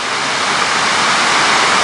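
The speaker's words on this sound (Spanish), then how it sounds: "Escuchar el agua" Water splashes steadily in an outdoor fountain in Dayton, Ohio, making a close, dense, unbroken hiss and rush with no voices.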